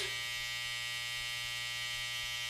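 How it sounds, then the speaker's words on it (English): An electric beard trimmer running steadily with a constant close buzz, cutting facial hair during a beard fade. "now I can use the trimmer, use the corners,"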